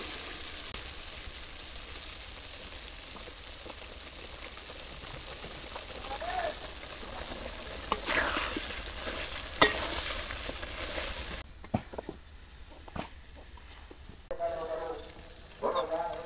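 Chopped agra tipped into fried spice masala in a village kitchen, a steady close sizzle and stirring scrape with occasional clinks, dropping quieter near the end before brief louder stirring.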